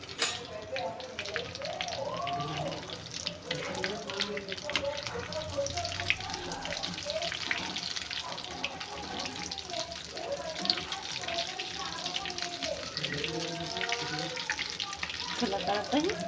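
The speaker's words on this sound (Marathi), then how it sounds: "छान फ्राय करून घ्यायचेत आपल्याला." Vadas for vada pav frying in hot oil, a steady broad sizzle with bubbling, while someone talks over it throughout.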